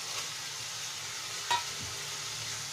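Potatoes frying in oil with spices, an even, close crackling sizzle with one brief clink of a utensil partway through.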